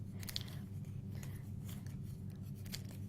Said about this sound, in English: I'm going to bring in my scissors because the sentiment was too large for the center die, and I'm just going to nip these away